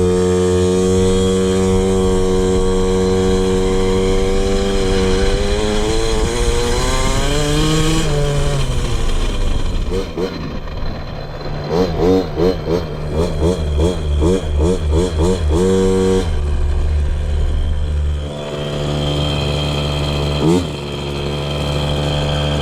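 A KTM 50 two-stroke dirt bike engine runs loud and close during air screw tuning, holding a steady buzzing idle, then revving up and down in rapid bursts before settling again.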